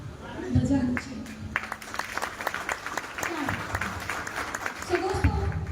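An audience claps in sustained applause, a dense patter of many hands, while a voice speaks over it at times.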